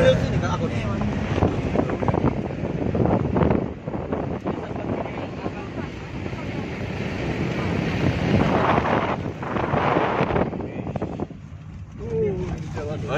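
Gusts of wind buffeting the microphone during a climb up the active volcano Mount Elgon, rough and rushing in waves that rise and fall, with a voice speaking at times.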